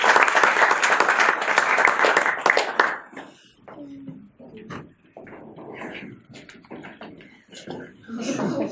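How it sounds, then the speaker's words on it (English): An audience claps in a loud burst of applause that fades after a few seconds, followed by scattered single claps, shuffling and voices talking in a hall. "We can clap again, but not when it's forced."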